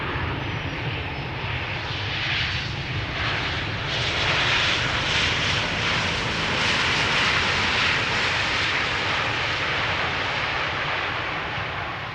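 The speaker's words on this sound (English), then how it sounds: "This is KLM flight 1002, arriving from London Heathrow, 737-800." A KLM Boeing 737-800 jet airliner, 16 years old, arriving at Amsterdam Schiphol from London Heathrow, its engine roar a broad steady rush that swells slightly mid-pass and holds loud throughout, with no voices.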